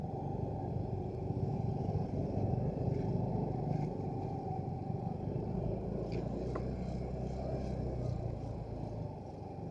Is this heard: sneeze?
no